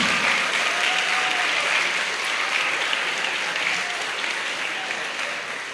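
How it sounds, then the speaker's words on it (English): An audience at a school prize-giving and awards ceremony claps in a sustained, dense round of applause, loud and even throughout before tapering slightly at the end. "Give them a louder round of applause."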